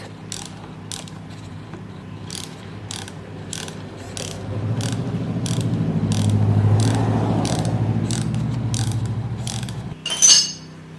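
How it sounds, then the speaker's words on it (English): A 10 mm wrench tightens the brake lever bolt on a Suzuki DL650 motorcycle, giving a close, steady run of evenly spaced ratcheting clicks over a low hum that ends in a brief, louder metallic clank. "I'm just going to use this adjustable wrench like this to hold this while I go underneath with 10 millimeter and tighten it"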